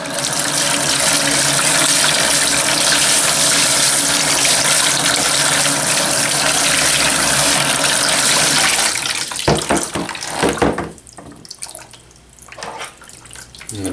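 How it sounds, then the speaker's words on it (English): Tap water runs steadily over a hair system being rinsed in a sink, a loud continuous splashing rush that breaks into uneven splatters and drips before stopping near the end. "Until your water runs nice and clean."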